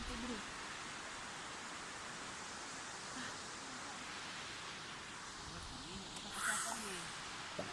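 Matigol Falls pours with a steady, broad rushing roar of falling water, constant and moderately loud, with faint voices murmuring underneath.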